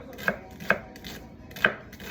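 A knife slices a shallot thinly on a small cutting board: several crisp, separate chops, each a short knock on the wood, close and fairly quiet, with no talking.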